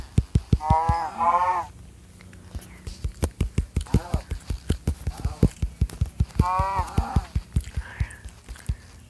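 Two lowing moos from a cow in the video game Minecraft sound near a game village, set against a rapid, regular train of clicking footsteps that continues throughout.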